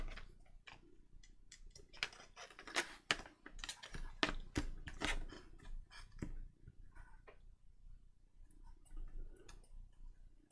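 Scissors trim thread ends and fabric edges from a freshly sewn pocket, a quick run of small, close snips and ticks, fairly faint and with no talk.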